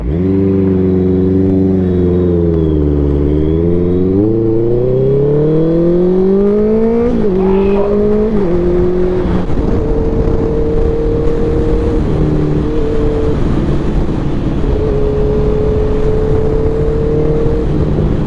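A Honda CBR650R motorcycle fitted with a Daivo exhaust revving close by, loud engine notes rising and falling through several revs, then settling into a steady, rough idle burble; no voices.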